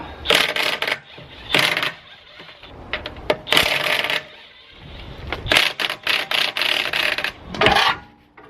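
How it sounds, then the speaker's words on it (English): An impact wrench works on a locking wheel bolt of a BMW E46, firing in loud, close, rattling bursts of hammering separated by short pauses, about seven runs in all. "I like to use an impact wrench"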